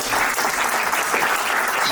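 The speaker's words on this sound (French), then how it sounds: "on peut les applaudir," Steady, dense applause from a crowd at a town hall volunteers' evening in Melun, filling the room evenly from start to finish without any talk.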